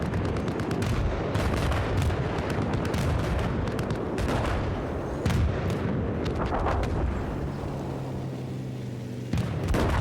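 Battlefield 4 tank combat brings dense, repeated cannon and gunfire blasts with heavy explosive thumps, loud and continuous through the whole stretch, with a sharper burst near the end and no talk.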